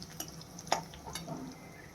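Garlic fries in oil for a Marathi tempering for a dry potato dish: a soft, close sizzle broken by a few light spoon scrapes and clinks.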